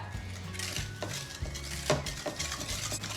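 A spoon stirs and tosses broccoli and cauliflower salad in a bowl, giving a few close, soft scraping and clinking strokes at an uneven rhythm.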